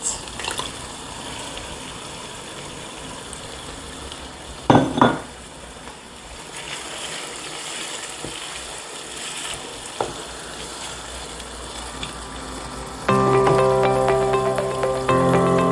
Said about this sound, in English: So now I'm going to pour the pepper in it.